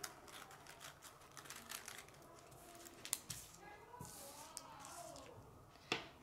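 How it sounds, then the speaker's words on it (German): Scissors snip through a folded paper sandwich bag while cutting the tip off a star shape, giving a few close, soft crisp cuts and paper rustles at a quiet level. "Dann nehme ich jetzt einfach die Schere und schneide die Spitze vom Stern."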